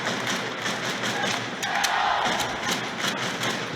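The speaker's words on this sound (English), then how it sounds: "Crowd responding to this good bit of pressure." Ice hockey crowd in an arena, Cardiff Devils against Glasgow Clan, roaring steadily with a swell of cheering midway, distant and dense, no clear talk on top.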